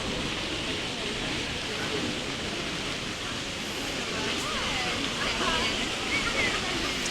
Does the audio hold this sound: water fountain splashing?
yes